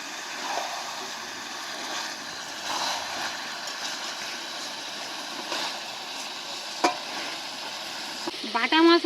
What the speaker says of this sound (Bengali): এইভাবে ঘন ঘন ঢাকা দেবো আর খুলে এইভাবেই মাংসটা কষে নেব।